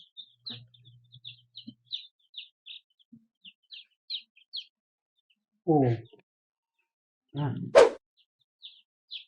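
Rhode Island chicks peep in a steady run of small, high, bright chirps, close by and fairly quiet, while a few short bursts of speech break in near the end.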